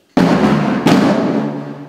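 Two sharp military drum signal hits about three quarters of a second apart, each ringing out and decaying slowly, like a loud drum beat in a reverberant room.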